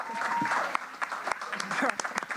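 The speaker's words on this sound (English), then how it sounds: "Let's just like clap it up just as an exercise" Audience at a beat cypher event clapping steadily, a dense patter of many hands filling the room, with voices and cheering mixed in.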